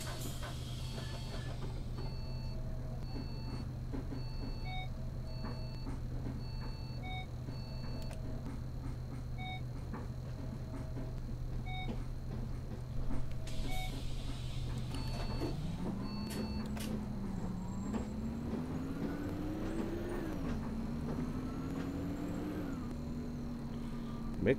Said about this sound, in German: Oh, irgendwas piept hier.